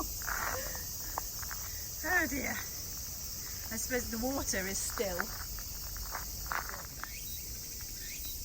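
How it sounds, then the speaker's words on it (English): Steady high-pitched buzzing of cicadas drones throughout, with people talking intermittently over it. "We do not have those cicadas in Hokkaido."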